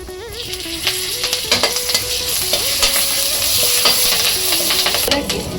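Curry leaves and turmeric with asafoetida sizzle loudly in hot oil for a homemade snack, a steady crackling hiss with a few sharp pops and stirring clinks throughout, with no voices.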